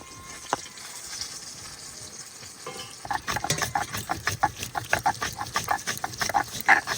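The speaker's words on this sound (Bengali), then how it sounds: "মাছ ভাজা হয়ে গেছে, এবার তুলে নেব।" Fish fries in a pan for a fish curry: a quiet simmering start gives way to a rapid, uneven run of sizzling crackles and stirring scrapes, close and fairly loud.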